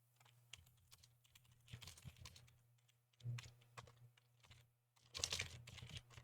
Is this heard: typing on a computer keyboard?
yes